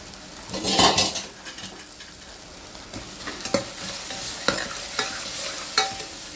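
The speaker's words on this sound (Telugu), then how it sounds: "బాగా ఫ్రై అవ్వనివ్వాలి" Gongura leaves and ginger fry in a pan with a loud sizzle that flares sharply at the start, followed by repeated metal spoon stirs and taps against the pan over a constant hiss.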